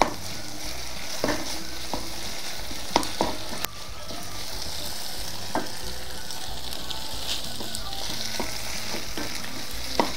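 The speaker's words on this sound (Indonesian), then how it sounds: "Kita tumis-tumis baksonya." Sliced meatballs stir-fried in a pan for a bean sprout dish, with a steady loud sizzle and frying hiss plus occasional clicks and scrapes of stirring, no talk.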